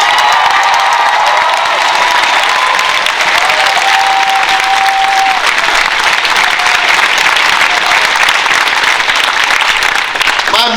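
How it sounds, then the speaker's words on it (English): A crowd at an outdoor Black Lives Matter protest applauds volunteers with loud sustained clapping and scattered cheers and shouts, continuing strongly throughout. "Give them another round of applause"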